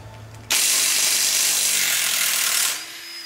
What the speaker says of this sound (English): we're just going to take that one bolt out that Chow has that gun on